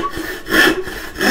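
A hand saw cuts wood on a straight downward line, giving two loud rasping strokes with a quieter pull between them, close and alone.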